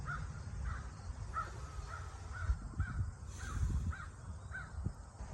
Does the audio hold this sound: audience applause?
no